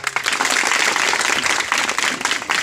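Audience applause during an antakshari quiz competition held for Savitribai Phule's birth anniversary, a dense steady clapping from a crowd lasting the whole moment with no talk over it.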